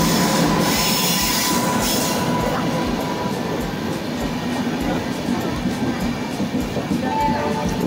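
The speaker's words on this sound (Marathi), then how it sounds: "हाय ट्रेन, केवढा लेट केलास, 15 मिनटं लेट केलास वाटतं" A late-running passenger train pulling into a station on the Shegaon to Mumbai route, loud and close, with rumbling wheels, rhythmic clanking over rail joints and metallic squeals as the carriages roll past.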